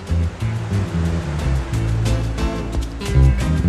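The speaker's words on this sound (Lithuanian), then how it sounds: "Dideli oro siurbliai pučia orą ir maišo vandenį" Large air pumps blow air into wastewater aeration basins, churning the water into a dense, loud, steady bubbling and splashing roar that carries on without a break and with no voices.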